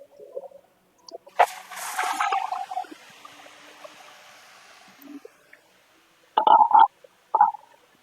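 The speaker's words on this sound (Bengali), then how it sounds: "রসুন পেঁয়াজ লাল করে ফেললাম, এবার আমি শাকগুলো দিয়ে দিচ্ছি" Bottle gourd greens drop into a pan of garlic and onion frying in hot oil, giving a sudden loud sizzle that fades to a soft hiss, followed later by a few sharp utensil clatters; no talking.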